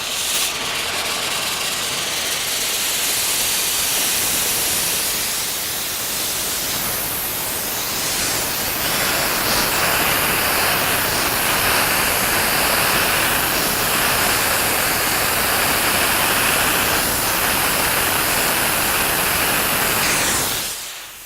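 A ClearBlast 150 abrasive blasting machine blasts a surface, giving a loud, steady broadband hiss and roar that runs nearly unbroken for about twenty seconds, close and alone with no talk.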